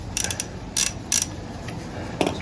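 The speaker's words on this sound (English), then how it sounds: "I'm just going to start loosening this bolt up a little bit." Wrench working the oil drain bolt on a 2019-or-later Honda Monkey motorcycle: a few short ratcheting clicks and metallic creaks, close up and fairly quiet, with pauses between bursts.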